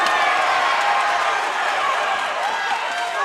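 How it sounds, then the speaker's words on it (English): Arena crowd cheering throughout a boxing fight, a dense steady roar with whoops and scattered applause, loud and continuous with no clear pauses. "Crowd are loving it."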